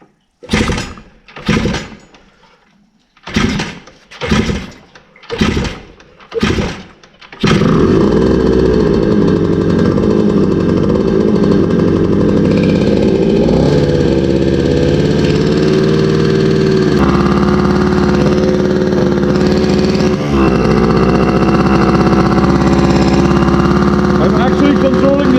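A Yamaha RD50 'Kenny Roberts' two-stroke motorcycle is kicked over several times with rhythmic sputters, then fires and settles into a loud, steady, raspy idle held high on the throttle, running continuously up close.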